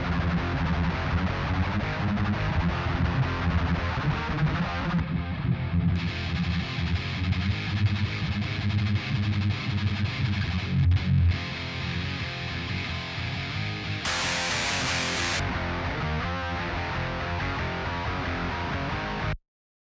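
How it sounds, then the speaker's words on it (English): Electric guitar played through an amp simulator with no impulse responses, giving a dense, fizzy wall of distorted fuzz and static that runs continuously and loud, with a brief burst of extra high hiss near the end. "That's what an amp sim sounds like normally. It's just a wall of fuzz and static."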